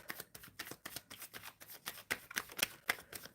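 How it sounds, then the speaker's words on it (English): Tarot cards being shuffled by hand, a quick series of soft riffling bursts in an irregular rhythm, close and quiet, with a few crisper snaps toward the end and no talk. "I am shuffling for Witchy World Traveler"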